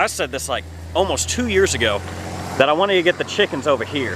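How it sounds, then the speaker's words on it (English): A truck engine idles nearby as a steady low rumble running continuously beneath a person talking throughout, changing slightly in tone partway through. "sorry for the truck noise."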